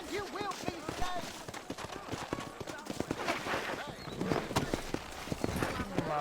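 Hooves clip-clop in a steady, quick rhythm from a horse in Red Dead Redemption, running through the whole stretch under ongoing talk and game voices.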